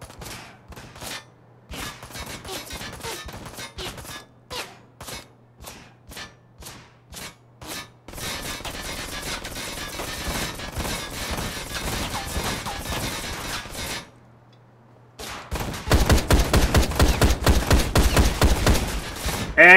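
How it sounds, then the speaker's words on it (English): A machine gun fires in the motorcycle action game Ride To Hell Retribution. Rapid bursts of close, loud shots come in choppy clusters, then switch to denser sustained fire with a brief pause before a final intense volley. "lay into him with your machine gun"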